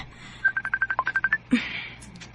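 Telephone call effect in a radio drama: a quick run of about a dozen sharp dialing tones, then a brief rising electronic ring tone, loud and close.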